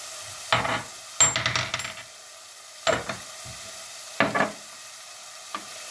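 Chili flakes tossed into a hot pan for Turkish okra stew, giving several short bursts of sizzling and stirring, each flaring up then dying away, with quiet gaps between.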